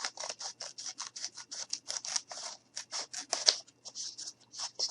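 Scissors snip steadily around a paper template for a gnome bed craft, a close, quick run of crisp cuts in uneven bursts with short pauses, and no voices.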